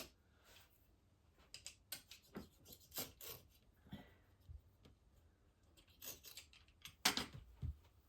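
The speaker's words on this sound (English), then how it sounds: "I will now cut off the new edges that came up here, like this. So we remove the excess material." Scissors snip away excess mesh from the replacement net of an original convertible wind deflector, giving a series of short, sharp cuts and rustles, close and fairly quiet, with a louder snip near the end.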